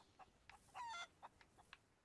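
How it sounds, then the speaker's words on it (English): Chicken clucking in the pirate video game Sea of Thieves: a series of short, sharp clucks spaced irregularly, with one louder drawn-out squawk near the start, all fairly faint and with no talk over them. "I just killed this chicken, and then out of nowhere, it still was making a noise"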